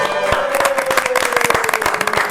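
An audience claps in a podcast studio setting with loud, fairly sparse individual hand claps over a busy background, with a sustained tone running under them.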